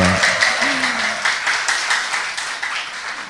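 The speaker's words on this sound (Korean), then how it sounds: "박수 다시 한번 주십시오" Audience applause greets a poet at a Korean poetry talk event, a dense steady wash of clapping filling the room for several seconds while a voice briefly speaks over the start.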